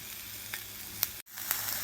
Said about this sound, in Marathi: यानंतर यामध्ये मी लसूण पाकळ्या घालणार आहे, 4 ते 5।